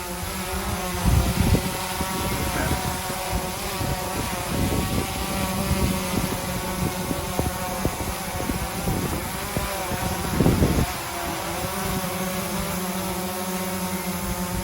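An Autel Evo I drone flying with its motors running, a loud continuous high-pitched whine and buzz that holds steady with slight pitch shifts and a few brief louder swells, no talk.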